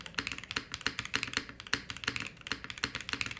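Rapid typing on a mechanical keyboard fitted with KTT Grapefruit switches, a steady close-up clatter of bright, crisp keystrokes in quick uneven rhythm with no other sound.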